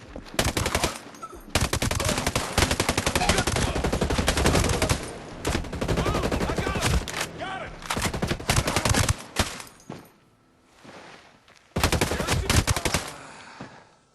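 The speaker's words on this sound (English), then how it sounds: "let's pull out our assault rifle" Sustained bursts of assault rifle fire from a tactical shooter, Ghost Recon Breakpoint, loud and close, with dense automatic volleys separated by short pauses and a brief lull before a final burst.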